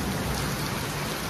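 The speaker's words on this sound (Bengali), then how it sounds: "যেমন মেঘ ডাকছে আর সেরকমই এখানে বৃষ্টি" Heavy rain pouring at a beach area in Goa, a dense, loud, continuous wash of drops close by with no talk; the thunder is not clearly distinct.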